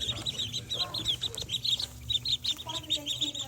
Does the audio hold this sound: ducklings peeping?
yes